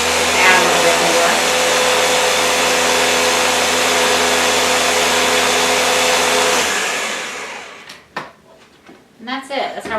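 A blender runs steadily and loudly, puréeing Instant Pot roast chicken gravy thickened with arrowroot, then cuts off after about seven seconds, leaving a few kitchen knocks and handling clatter.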